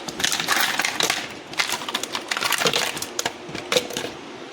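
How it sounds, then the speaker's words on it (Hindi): Hard clattering and clinking as ice cubes tumble into a blender jar and knock against it, a rapid irregular rattle with sharp individual hits. "अब इसमें बर्फ़ डाल देंगे"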